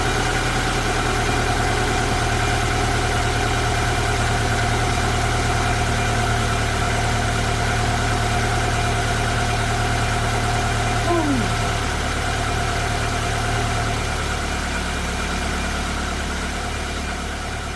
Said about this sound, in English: the engine does take a little while to settle down, as it's had the head off